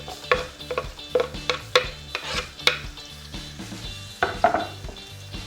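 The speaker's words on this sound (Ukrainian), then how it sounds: "На цьому етапі нам треба посмажити цибульку. Кидаємо її в пательню." A utensil scrapes and stirs onions frying in a pan with soft sizzling underneath, a series of close clinks and scrapes at an uneven pace.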